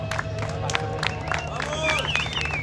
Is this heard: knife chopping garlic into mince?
no